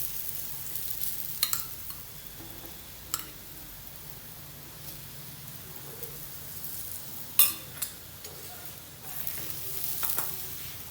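A paratha made with drumstick (moringa) leaves fries in ghee on a hot pan, with a steady low sizzle and occasional clicks and taps of a utensil against the pan, and no talking.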